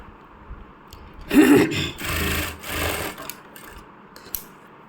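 A sewing machine stitches a small summer dress for a Laddu Gopal doll in two or three short, close bursts of rapid whirring, followed by near silence.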